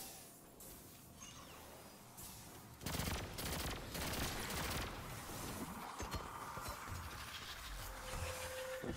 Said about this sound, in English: It feels like every other pulse rifle I've ever shot.